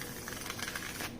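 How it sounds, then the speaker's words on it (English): Quick, soft riffle shuffle of a palm-size Thoth tarot card deck: a short flurry of fine, rapid paper clicks close by, fairly quiet and heard alone. "I do love to riffle shuffle this deck"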